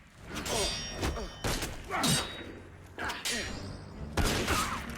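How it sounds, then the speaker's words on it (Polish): A bell clangs several times with ringing strikes in the video game Assassin's Creed Unity, mixed with impacts, whooshes and game noise, while someone talks over it. "Stary, nie ma co bić w ten dzwon, tu już nikogo nie ma"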